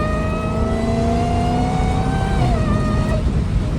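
A Dodge Hellcat engine drones loud and steady while driving, with a deep rumble and rising then falling rev tones on the road.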